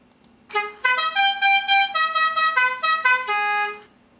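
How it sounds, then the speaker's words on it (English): A loud, musical multi-tone truck horn from a Beier SFR-1 sound controller in a Tamiya model semi truck blares in a few short stuttering honks, then holds one long blast before cutting off. "here's a different horn sound"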